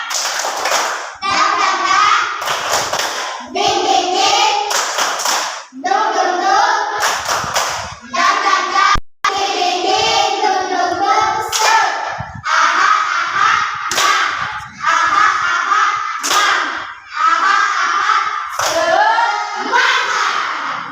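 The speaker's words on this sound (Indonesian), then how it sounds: "Ulang satu kali lagi. Tepuk semangat." Third-grade pupils repeating a rhythmic classroom spirit clap, crisp unison hand claps in patterned bursts interleaved with the group chanting together.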